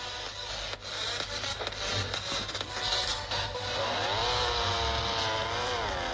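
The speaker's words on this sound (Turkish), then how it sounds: "sizinle birlikte motosiklet oyunu oynuyoruz" A steady, droning motorcycle engine roar in the video game Xtreme Motorbikes revs up and down continuously, loud and close with no pauses.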